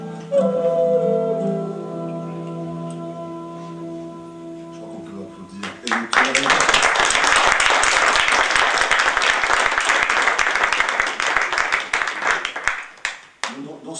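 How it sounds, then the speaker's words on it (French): An audience applauds at a literary talk: a sustained, dense round of clapping swells after a few seconds of a sustained tonal passage and lasts several seconds before fading out. "Je crois qu'on peut applaudir."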